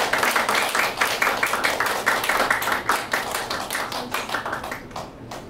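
A seated audience in a small community-hall theater claps densely and continuously for a traditional Korean music award winner, loud at first and thinning out toward the end.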